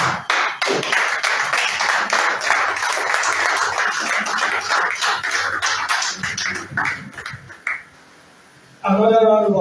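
An audience at a business talk applauds steadily and loudly for several seconds; the clapping thins and fades out, then a voice begins speaking.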